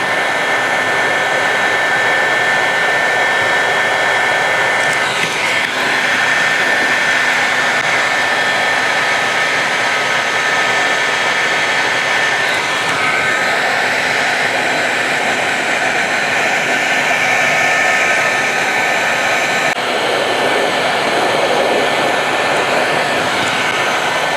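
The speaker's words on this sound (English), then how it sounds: "It takes a little bit of time to get through this process with the heat gun, but it's well worth it." A heat gun blows hot air over an epoxy countertop in a continuous loud, even roar lasting the whole stretch, with slight wavering as it moves and no talk.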